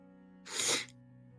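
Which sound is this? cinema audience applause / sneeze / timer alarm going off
sneeze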